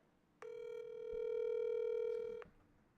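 A single steady telephone tone, like a dial or ringback tone, rises cleanly and holds for about two seconds before stopping, heard alone over quiet background noise while a call is placed.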